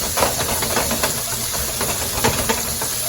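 Bacon grease sizzles in a skillet over medium heat, a steady broadband hiss with small crackling pops scattered throughout, close and continuous with no talking.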